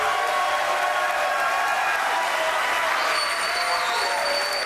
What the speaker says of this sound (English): You guys sound like a really nice crowd.